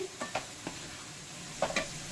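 Potatoes with spices stirred in a frying pan, a soft continuous sizzle broken by several spatula scrapes and taps, near but fairly quiet.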